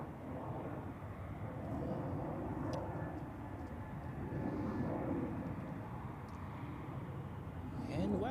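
An EasyJet Airbus airliner landing at Zurich Airport, its engines a steady broadband roar that holds throughout and swells slightly near the end, heard from close range with no talk over it.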